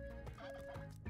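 A turkey in the video game Spelunky 2 gobbles in a rapid, warbling burst that fills the clip, heard close with a steady electronic game tone underneath and no voices.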